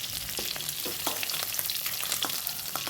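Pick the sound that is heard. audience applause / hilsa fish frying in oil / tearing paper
hilsa fish frying in oil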